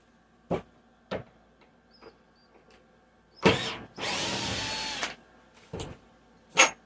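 A power drill backing out screws from a model railway layout's wooden benchwork, heard as several short, close whirring bursts separated by quiet pauses, with one longer steady run in the middle.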